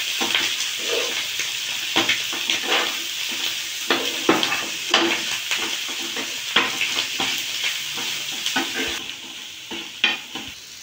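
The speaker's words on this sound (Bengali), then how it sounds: "সবজিগুলো ভালো করে ভেজে নিয়েছি।" Mixed vegetables and boiled cabbage stir-fried in a pan for shop-style chow mein, loud continuous sizzling with frequent spatula scrapes and clanks against the metal pan, no talking.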